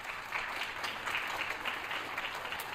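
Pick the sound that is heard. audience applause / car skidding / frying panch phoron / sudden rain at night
audience applause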